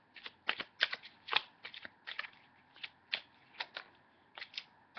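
A deck of angel cards being shuffled, giving crisp riffling snaps and flicks in irregular bursts, close and quiet with no talking.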